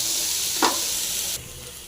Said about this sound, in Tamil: வெங்காயம் நல்லா ஃப்ரை ஆகிருக்கு